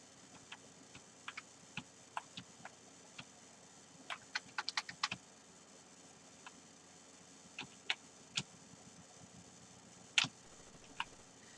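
Keys clack on an Apple II computer keyboard as a lunar-lander game is played: scattered sharp clicks, some single and some in quick bursts, close and fairly quiet against a low steady background hum.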